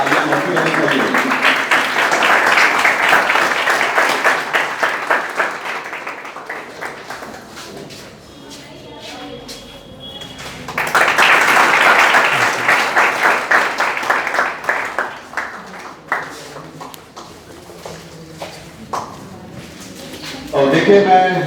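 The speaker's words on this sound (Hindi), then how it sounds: "तालियां होती रहनी चाहिए।" Classroom audience applause in two sustained waves of loud clapping separated by a quieter gap, with a voice talking in the lull and at the close.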